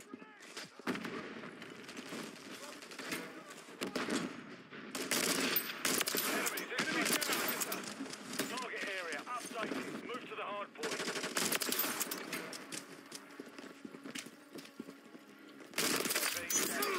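Rapid bursts of automatic gunfire and explosions from Call of Duty: Modern Warfare 3 multiplayer, loud and dense with brief pauses between volleys, while a player talks over the action.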